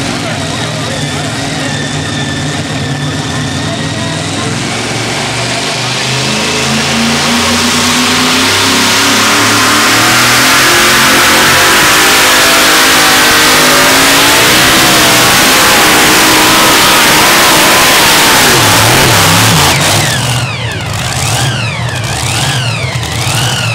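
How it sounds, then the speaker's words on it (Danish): Tractor-pulling tractors at a Herning 2011 pull, including the 2.5-ton Double Screamin', revving hard: a loud, sustained engine roar that climbs and surges in pitch, with wavering revs near the end. "støj fra de hissige traktorer"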